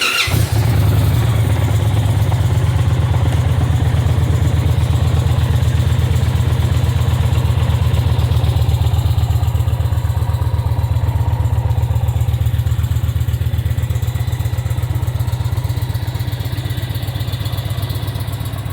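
A 2023 Indian Challenger Dark Horse motorcycle engine fires up after the fuel pump primes, with a quick start, and settles into a deep, steady idle, loud and close throughout.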